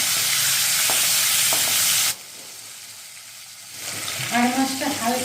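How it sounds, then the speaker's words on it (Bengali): Aar fish pieces fry in a pan over a medium-high gas flame, sending up a loud hissing sizzle that cuts off abruptly, then returns quieter as a voice speaks over it. "গ্যাসের ফ্লেমটা মিডিয়াম টু হাই ফ্লেমে রেখে মাছগুলোকে একটু হালকা করে ভেজে নেব"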